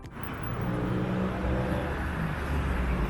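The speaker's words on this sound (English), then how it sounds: "Our attempt to capture the idyllic countryside scene was constantly thwarted by motorbikes and cars zipping by" Motorbikes and cars pass close by on a road near Bangkok, a loud steady engine drone that swells in quickly and holds.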